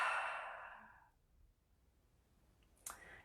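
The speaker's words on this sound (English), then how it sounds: "take a deep breath" A single slow, deep breath taken during a calm guided appreciation session: a soft, close airy rush lasting about a second that fades into near silence, with a faint click near the end.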